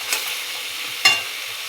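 Meat frying in a pan in a home kitchen, a faint steady sizzle with a sharp clatter of stirring partway through, quiet and close, no talking.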